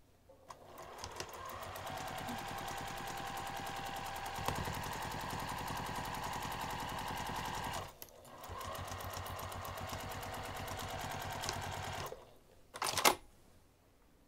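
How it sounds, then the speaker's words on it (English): A sewing machine stitches craft bag fabric with a half inch seam, running steadily close by for long stretches, pausing briefly around the middle and near the end, with a short burst after the second stop; no one speaks. "when we go to sew this, we're going to sew from the top down to the line using a half inch seam allowance"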